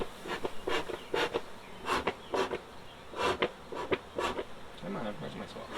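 Honeybees buzz around an opened hive during an inspection, with repeated close buzzing bursts and brief rustling in a rough rhythm, and a person speaks at times.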